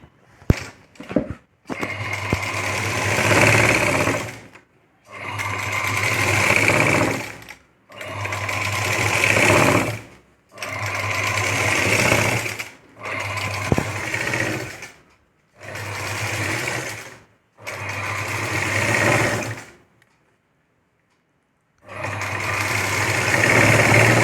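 Sewing machine stitching patches onto a mini paithani saree blouse, running in about eight steady bursts of a few seconds each with short pauses between, close and clear with a low motor hum.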